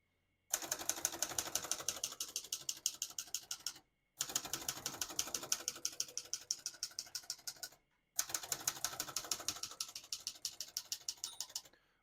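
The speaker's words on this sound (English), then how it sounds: "We're going to keep that on single for now and finish typing." Typing on a 1957 Hermes Rocket vintage portable typewriter: three close runs of rapid, even keystrikes with mechanical clatter, separated by short pauses, alone without voices.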